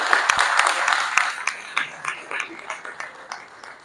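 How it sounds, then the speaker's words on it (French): Audience applause at a press conference for a rumba music project, a dense patter of claps in a sizable room that gradually thins and fades into scattered individual claps. "Les applaudissements, s'il vous plaît."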